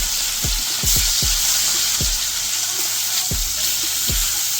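Rohu fish pieces fry in hot oil in a kitchen pan, a loud continuous sizzle with a few sharp pops and clicks, heard up close with no talking.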